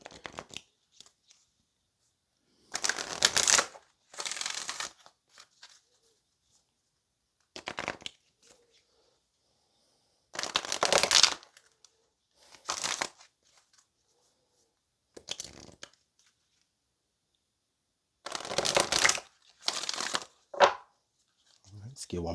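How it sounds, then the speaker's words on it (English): A deck of tarot cards shuffled in bursts of crisp riffling and slapping, close and soft, separated by quiet pauses. "Let's get one more shuffle before we ask Spirit for our card"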